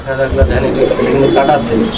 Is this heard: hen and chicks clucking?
no